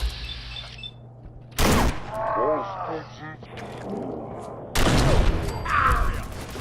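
Fallout 4 combat brings two sudden loud bursts of gunfire separated by quieter stretches, with robotic growls and voiced game sounds in between.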